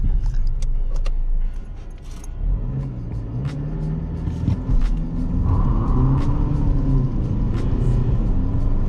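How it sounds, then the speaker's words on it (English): A stock VW Mk5 common-rail TDI with a DSG gearbox, set to sport mode, launches hard from a standstill; the engine's drone climbs steadily in pitch under heavy road and cabin rumble, with a shift-like dip along the way. "We'll do a stock launch to 60 just to see what it's like."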